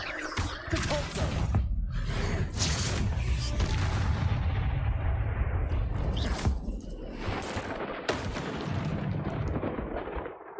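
Spellcasting in the Hogwarts Legacy video game, with loud booming blasts and rapid explosive impacts in dense succession, followed by shattering crashes and debris as the combat dies down.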